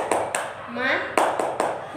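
A class doing the rhythmic 'tepuk semangat' clapping chant, sharp group claps in a quick pattern broken by a spoken voice in the middle.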